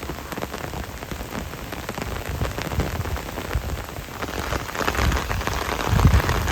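Heavy monsoon rain pours down steadily onto surfaces, a dense continuous hiss and patter that swells toward the end with a low rumble, and no voices.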